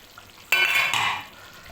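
Chopped coriander leaves drop into a pan of cooking tuna and are stirred through it. One sudden burst of sizzling and scraping is followed by a second, softer stir, close and fairly loud, with no talk.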